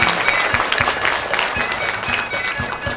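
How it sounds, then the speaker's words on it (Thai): Applause from a seminar audience of Thai local government organisation members, a steady dense wash of many hands clapping, loud and close, with no voices over it. "ขอเสียงปรบมือ เพื่อแสดงความยินดีค้ะ"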